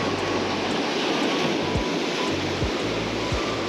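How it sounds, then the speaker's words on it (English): Big ocean wave rolling in and crashing against the rock jetty at Dana Point, a loud continuous surf roar with deep rumbling surges and a few low thuds, close by with no voices. "that's a big wave too"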